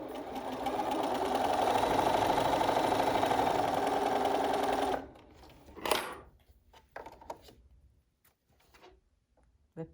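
A sewing machine runs a straight stitch on fabric for a fitted face mask, a steady, close whirring for about five seconds that then stops, followed by a few quiet handling clicks and rustles.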